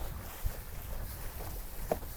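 Wind blowing across open water during a parawing foiling session on a SABFOIL 1075 Razor Pro foil, heard as a steady, fairly faint rush of wind noise with slight swells and no voices.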